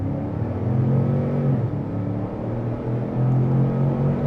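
A 2025 Ford Expedition Tremor SUV accelerates at half throttle in sport mode, its engine holding a steady, smooth mid-pitched drone with a gear shift midway, loud and continuous with no talking.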